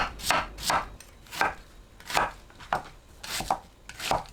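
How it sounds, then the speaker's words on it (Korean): A knife chops onion on a cutting board in crisp, fairly regular strokes, about a dozen cuts, close and clear with no talking. "양파는 믹서에 갈기 좋은 크기로 썰어주세요."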